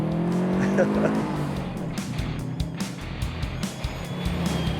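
Subaru rally car sliding around corners on a rally course, giving a continuous engine drone with a rising whine and a brief tyre squeal early on, followed by rough gravelly crunching and bumps, with people talking over it.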